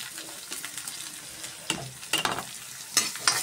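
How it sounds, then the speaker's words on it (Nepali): Ajwain fried in a pan, a faint soft sizzle punctuated by a few sharper crackles and stirring scrapes, heard alone. "यस्तै फ्राई गर्नु"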